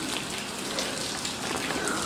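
Heavy rain pours down in Cadaqués on the Costa Brava, a dense, steady hiss of drops close by with no letup.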